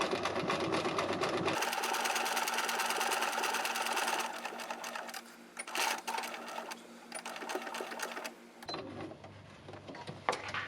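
A sewing machine stitching a backpack runs in a fast, steady motorized whir. It pauses in the middle with softer handling noises, then the stitching resumes.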